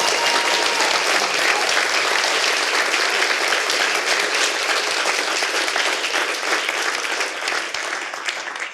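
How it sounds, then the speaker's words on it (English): Sustained applause from a large crowd, steady and loud throughout, tapering slightly at the end. "Let's give all the veterans a round of applause"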